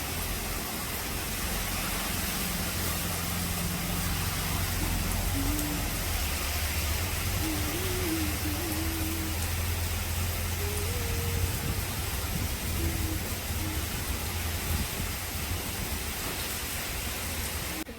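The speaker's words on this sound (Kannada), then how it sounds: "ತುಂಬ ಮಳೆ ಇದೆ ಇಲ್ಲಿ." Heavy monsoon rain pours down in Puttur, a steady broadband hiss that holds evenly throughout, with faint voices occasionally surfacing beneath the downpour.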